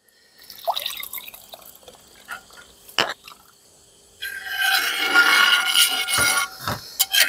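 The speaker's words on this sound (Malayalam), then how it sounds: "അപ്പൊ നമ്മള് നാളികേരം പാൽ ഒഴിക്കാൻ പോണ്." Coconut milk is poured into a pot of payasam, starting with a few soft drips and then turning into a steady, fairly loud liquid pour for the last three seconds.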